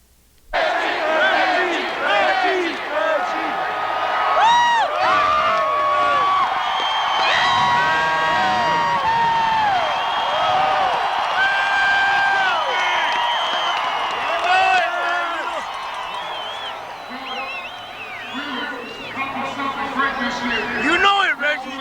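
A crowd of Green Bay Packers fans whoops and cheers loudly for Reggie White, a sustained roar of shouting voices with scattered clapping that eases slightly near the end.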